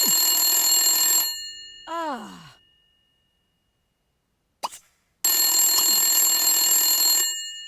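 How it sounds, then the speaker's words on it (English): A telephone rings in the Sims FreePlay video game, two long bright electronic bursts separated by a quiet gap, with a short sighing voice sound and a brief blip between them. "this is what she was up to when the phone began to ring"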